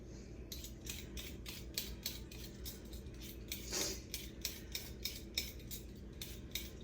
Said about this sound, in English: I'm just peeling it right into my sink